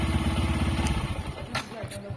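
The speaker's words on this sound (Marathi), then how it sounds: "आवाज येतोय मला, गाडीचा आवाज येतो त्याच्यात." A vehicle engine runs close by with a steady, low, throbbing rumble and a regular pulse, holding an even level throughout the clip.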